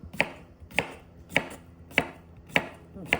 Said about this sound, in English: Chop up your cucumber, and I'll keep chopping here.